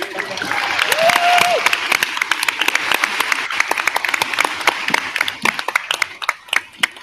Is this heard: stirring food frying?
no